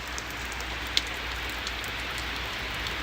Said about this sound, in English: So right now here in Oswego, we're getting a heavy downpour. It's been raining like this for a bit.